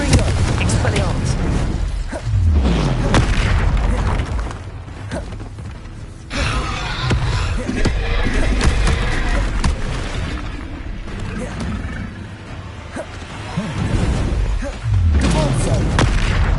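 Spell blasts in Hogwarts Legacy, including Confringo and Incendio, burst and boom repeatedly in heavy, close impacts with whooshing sweeps, under a steady layer of game noise and voices.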